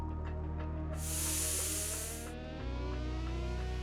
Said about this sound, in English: Pressure cook for about 4 to 5 whistles on medium flame.